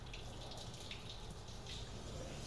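Hot water pours from a shower in a constant rushing stream, steady and close, with no break.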